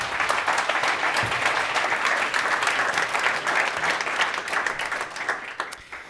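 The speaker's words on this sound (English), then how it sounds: "applause for our speakers here." An audience at a last-mile parcel delivery meetup applauds its speakers. The clapping is loud and sustained, a dense wash of hands that holds steady for several seconds before thinning toward the end.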